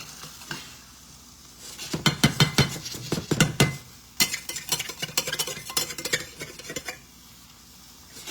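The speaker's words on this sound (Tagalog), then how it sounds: "Isdang pinirito. Kunting baliktad, okay na." Fish fries in a pan with a constant sizzle, broken by bursts of scraping and metallic clatter from a utensil as the pieces are turned, a quiet stretch, then more rapid clinks and scrapes.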